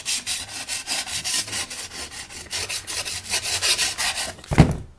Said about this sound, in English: put a little oil right on the sandpaper, and then use that radius and just start sanding